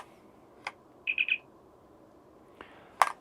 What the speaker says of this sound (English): that opens up and does the chirp noise